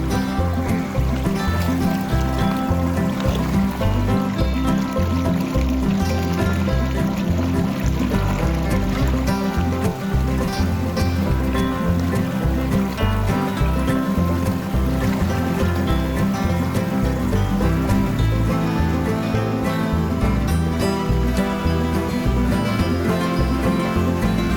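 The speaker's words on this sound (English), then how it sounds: "I hear what sounds like a decent waterfall back here" Distant waterfall in a wooded creek drainage in the Dry Creek Wilderness, Arkansas, a steady broad rushing roar of water that holds constant throughout with no talk.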